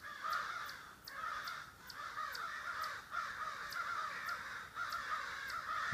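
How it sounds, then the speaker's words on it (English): Several crows caw repeatedly in a steady rhythm, fairly distant, over a faint hiss of outdoor background. "There's a pack of crows ahead above me."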